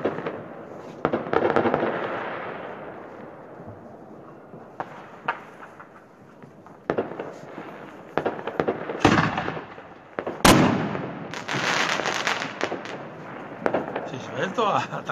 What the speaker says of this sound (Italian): Qua non hanno vietato i botti.